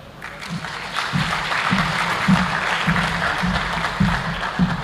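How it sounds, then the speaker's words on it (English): Steady applause from a lecture audience at the Thabo Mbeki Africa Day Lecture, a dense wash of clapping lasting throughout with faint low thumps pulsing beneath it. "Another round of applause for him"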